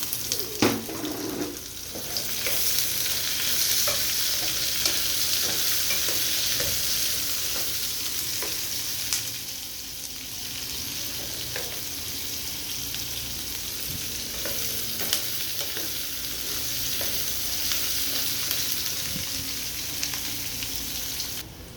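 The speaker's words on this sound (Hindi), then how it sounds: "ये भी इसमें डाल देंगे। इसको भी फ्राई कर लेंगे।" Potatoes and a medium onion frying in a pan, a steady close sizzle running throughout with occasional stirring scrapes and clinks, no talking.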